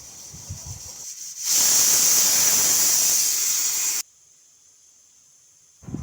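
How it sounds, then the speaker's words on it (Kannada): Steam hisses loudly and steadily from a pressure cooker while chickpeas and vegetables cook for sambar, a sustained rushing burst of about three seconds that cuts off abruptly into near silence. "ಅಷ್ಟರಲ್ಲಿ ಕುಕ್ಕರ್ ಇವಾಗ ಒಂದೆರಡು ವಿಷಲ್ ಬಂದಿದೆ."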